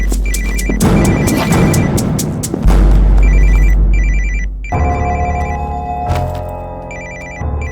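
A mobile phone rings repeatedly in a busy, noisy room, its electronic ringtone pattern sounding in bursts over loud background commotion and a low rumble.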